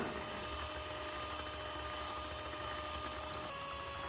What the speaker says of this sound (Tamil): முதல்ல சுகர் சேர்க்காமல் எலக்ட்ரிக் பீட்டர் வச்சு பீட் பண்ணிக்கலாம்.